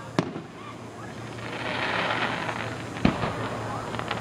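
Fireworks go off outdoors with a couple of distant sharp pops and a steady crackling hiss, under faint voices and background noise.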